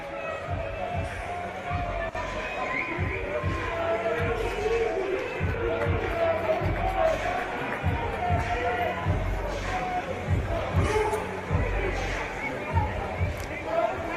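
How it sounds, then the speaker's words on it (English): Fordham fans cheer in the stands at an NCAA men's water polo quarterfinal against Long Beach State in the Bay Area, a steady crowd roar with scattered thumps and commentary voices over it. "Look at this contingent that has showed up to cheer on the Rams."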